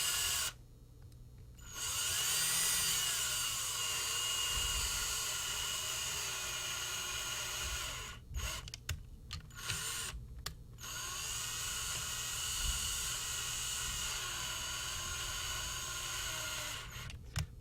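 A power drill boring into a Kaba Ilco lock cylinder whines continuously at high pitch, briefly stopping and restarting a few times, close and fairly quiet.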